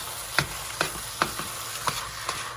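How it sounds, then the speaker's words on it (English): A broccoli cheese casserole is stirred in a pot, with six evenly spaced scraping strokes of the spoon against the pot, moderately close and clear, over a quiet kitchen background. "We're gonna stir all of this up."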